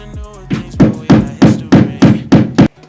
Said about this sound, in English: I'm gonna have to hammer it into the wall